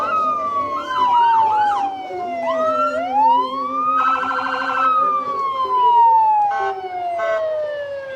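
A Lapping Fire Department fire truck siren wails through a Christmas parade, loud and near, its pitch sweeping down and back up with rapid yelping bursts and horn-like blasts over a low engine rumble.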